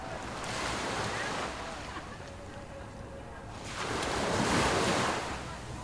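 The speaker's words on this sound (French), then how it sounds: "il y a une plage, elle est magnifique comme ça, c'est archi beau" Waves breaking on a beach, two loud surges of surf rolling in and washing out with a quieter lull between, with wind buffeting the microphone.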